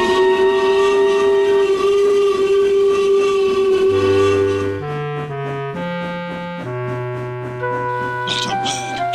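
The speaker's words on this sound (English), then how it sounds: "The two trains started." Loud sustained train whistles sounding in long tones and shifting pitches, with steady rail rumble underneath as trains get under way.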